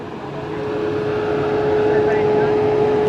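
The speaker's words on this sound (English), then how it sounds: "Listen to how hot Kyle's car is trying to cool itself." Cooling system of a hot Tesla race car after track laps, a steady loud whirring fan-like drone with a constant tonal hum, swelling slightly at first and then holding even, with people talking over it.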